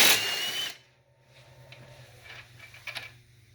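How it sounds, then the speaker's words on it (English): Power tool loosening intercooler bolts on a 2017 Subaru WRX STI: a loud, close whirring burst of under a second, then a quieter stretch of light clicks and handling noises. "We gotta get these bolts out of the side of the intercooler."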